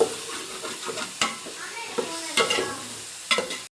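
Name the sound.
stirring fish frying in a pan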